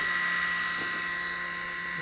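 A Silvercrest SRD600 A1 USB rechargeable electric shaver, reassembled without its heads after repair, runs with a steady, close, high-pitched motor whine.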